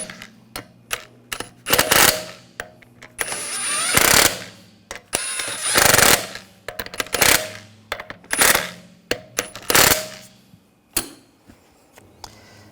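An impact wrench snugs down the wheel lug bolts on a 2007-2013 BMW X5, firing in repeated short loud rattling bursts with brief pauses between them, close by, with no talking.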